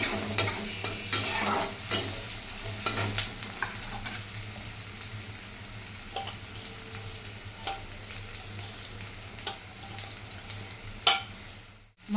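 Onion frying in a pan, with steady sizzling close by and repeated scraping and clattering strokes of stirring throughout, no voices.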